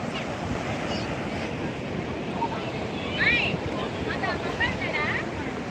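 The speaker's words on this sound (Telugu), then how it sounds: "సముద్రం ముందుకు వస్తుంది" Sea waves washing up on a crowded beach during a festival idol immersion, a steady broad surf wash with gusts of wind, voices and occasional shouts in the background.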